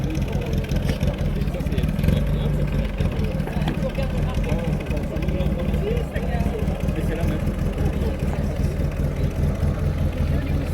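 A collector car's engine rumbles steadily as it pulls into a classic car meet at Bletterans, a low idling drone held throughout, with voices talking over it.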